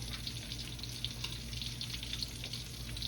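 Shrimp fry in hot oil with a dense, steady crackling sizzle that stays close and loud throughout, with no talking.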